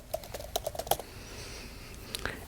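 Quick run of keystrokes on a computer keyboard, several close light taps followed by a brief pause and two more clicks.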